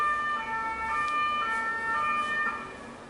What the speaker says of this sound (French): Ce sont les pompiers, la police, les pompiers.